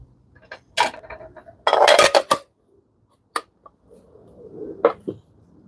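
Dishes and bowls clatter on a counter while pork ball soup is served, with a few sharp ceramic knocks, a busy cluster of clinking and scraping, then quieter isolated taps, close and loud.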